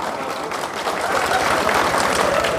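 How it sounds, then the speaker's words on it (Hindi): A crowd at a public rally claps together, the applause swelling into a dense, continuous patter of many hands, fairly loud and spread out. "यहां बजाओ तालियां"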